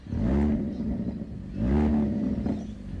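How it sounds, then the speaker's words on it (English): Two loud revs from a Hyundai i30N's sporty exhaust, each swelling into a throaty, crackling burble before easing off, heard up close with no talking. "Hyundai i30N. Now, this has a sweet exhaust."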